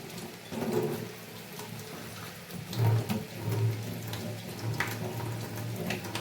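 A household water tap sputters with air in the line, giving an uneven, gurgling trickle with irregular bursts and spits, fairly quiet and without speech.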